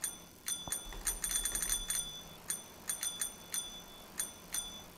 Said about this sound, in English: There's no horn, but there's like a bell.